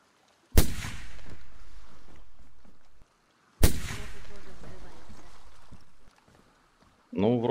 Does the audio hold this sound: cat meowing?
no